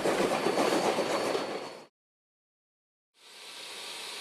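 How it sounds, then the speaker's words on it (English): Steam locomotive number 618 at the Heber Valley Railroad in Heber, Utah, gives off a loud, steady rushing hiss before dawn. The sound breaks off into silence for about a second, then resumes more softly, with no talking. "locomotive number 618 steams quietly at the Heber Valley Railroad"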